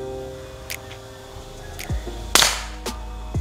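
A Sharp Innova pump air rifle is test-fired, giving one loud, sharp crack that stands out clearly, with a few fainter clicks and handling knocks around it.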